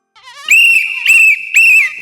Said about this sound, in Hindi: देखा साहब, मेम साहब कितनी जोर से सीटी बजा रही है